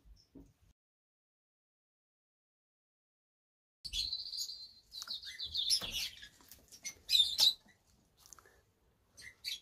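White-cheeked turaco calling nearby after a silent start, with a series of high, thin chirps and squeaky notes in irregular bursts over faint scuffling sounds.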